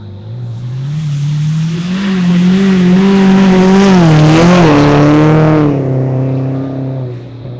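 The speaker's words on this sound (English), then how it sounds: "Car seems to be looking and sounding pretty well." A rally car blasts past on a gravel special stage at the Sandblast Rally, its engine note rising and falling with harmonic sweeps as it revs hard, swelling loud and close then fading away, with no talk.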